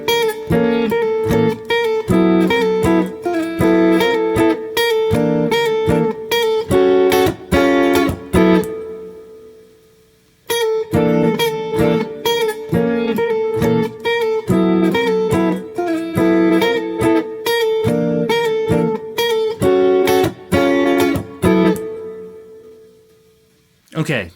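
Jazz guitar chord melody, chords moving beneath a repeated high A pedal note on top; rich strummed and plucked chords played solo, loud and close, in two similar phrases split by a brief pause.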